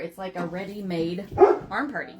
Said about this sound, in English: Sorry about my dogs. They bark at everything.